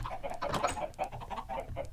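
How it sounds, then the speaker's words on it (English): Chickens in a Minecraft chicken farm packed with about 29 birds, giving a steady, busy stream of overlapping clucks and soft bawks at moderate, close volume, with no talk over them. "Looks like 29 chickens in there"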